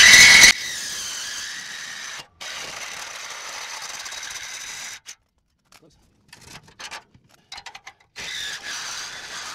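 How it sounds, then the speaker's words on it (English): A Sawzall reciprocating saw cuts through the exhaust pipe of a 7.3 L 2020 Ford Super Duty, a loud harsh buzz at first that settles into a grinding rasp, then breaks into stop-start bursts with short pauses. "So I'm just gonna cut it with my Sawzall on a flat spot."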